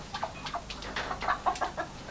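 Chickens cluck in a quick run of short, bright calls, several birds overlapping at close range over a faint steady background hum, with no talk.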